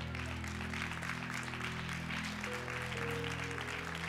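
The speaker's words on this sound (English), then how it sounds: "sometimes wherever I'm looking, they clap more" Church congregation applauding throughout, a dense steady clatter of many hands with sustained organ or keyboard tones underneath.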